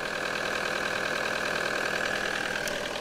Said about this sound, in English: it is a diesel engine and diesels are a little bit loud